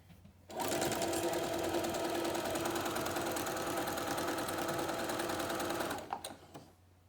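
A sewing machine stitching a homemade face mask runs in one steady, loud, rapid whirring burst of about five seconds, then slows and stops, with a few clicks afterward.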